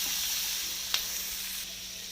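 Small pieces of coconut frying in oil in a pan, a close, steady sizzling hiss throughout with one brief sharp crackle partway through.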